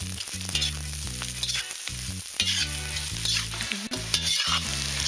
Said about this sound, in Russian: Само шкварчание, жарящегося сала, это звук особенный